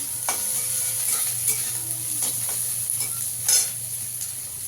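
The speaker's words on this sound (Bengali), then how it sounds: "পেঁয়াজটাকে একটু ভেজে নেবো" Chopped onion fries with garlic in a pan, giving a soft steady sizzle close by, with a few sharp clicks of a spatula against the metal and a low hum beneath.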